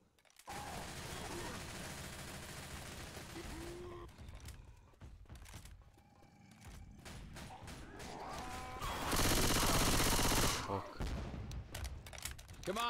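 Gunfire in the zombie shooter Left 4 Dead 2, with rattling bursts and a loud barrage under game noise and people talking.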